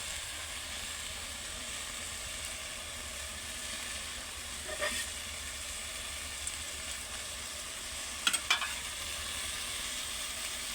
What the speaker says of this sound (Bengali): সবগুলো দুন্দুল এভাবে দিয়ে আমি কষিয়ে নেব